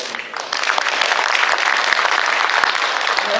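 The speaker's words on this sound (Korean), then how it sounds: "박수로." Dense, steady applause from an audience at a Korean shared-growth forum, rising after a brief softer start and holding strong as a dignitary is introduced.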